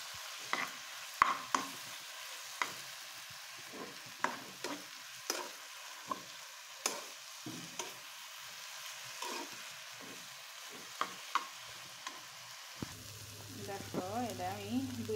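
Borboti beans and pointed gourd frying in a pan with salt while being stirred for a mash: regular scraping knocks of the spoon over a faint sizzle, with a low humming tone entering near the end.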